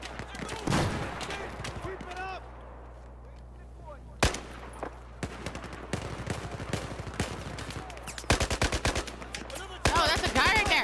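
Gunfire in Battlefield 4, with bursts of automatic shots and scattered single cracks, including a sharp loud report and denser rapid volleys near the end, over a steady background hum.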